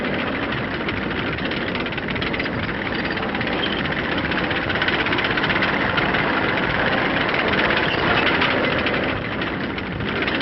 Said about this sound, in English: Persian tanks. Rumbling up to spearhead the action to come.